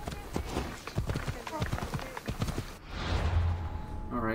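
Horse hooves clopping in Assassin's Creed Odyssey, a quick run of close hoofbeats for under three seconds amid game ambience, then fading into a softer, airy wash.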